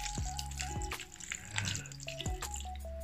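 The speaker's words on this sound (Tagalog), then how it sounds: "lagyan natin ulit ng tubig" Water pours into a cooking pot of broth, a few seconds of quiet splashing and dripping, close by and fairly soft, with no talking over it.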